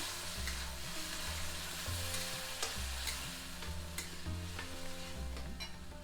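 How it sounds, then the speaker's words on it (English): Tomatoes stirred in a frying pan for a tomato chutney, a steady close sizzle broken by rhythmic scraping sweeps of the spoon every second or so. "you just add all the tomatoes in there. Give it a stir."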